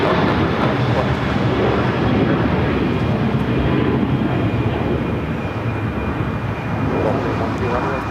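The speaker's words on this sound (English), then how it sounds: "Let's head to the Reno Air special livery now. Taking off this flight heading to Chicago O'Hare." An airliner in Reno Air special livery takes off at Los Angeles airport, a loud sustained jet roar filling the whole stretch, with talking over it.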